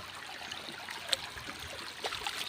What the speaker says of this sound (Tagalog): Ilog po.